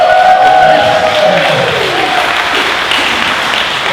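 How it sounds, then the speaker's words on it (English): An audience applauds and cheers loudly for the grand prize winner of a Cadillac CTS-V dream giveaway at a winner party, with steady dense clapping and a brief whoop near the start. "a round of applause"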